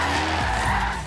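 Drift car in Forza Horizon 3 accelerating hard with tires skidding, a loud, steady engine roar blended with continuous tire squeal over about a second.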